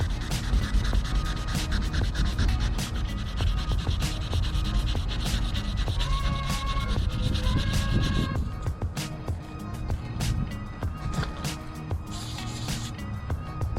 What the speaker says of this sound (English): Got some 400 grit sandpaper.